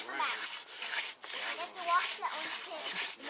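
A wooden hand-drill spindle rubs back and forth against a wooden fireboard in quick rasping strokes with short pauses between them. The sound is close and fairly soft.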